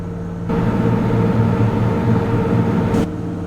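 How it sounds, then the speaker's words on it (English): Bus engine held at maximum revs in a driving simulation game, a loud steady droning roar that starts abruptly, holds constant for a few seconds, then drops back to a lower idle hum. "Bus going at its maximum revs."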